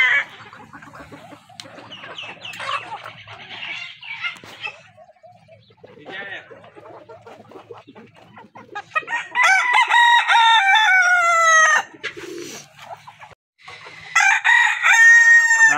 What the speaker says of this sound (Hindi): ये पूरी मुर्गी भर आ गई है चावल खाने के लिए।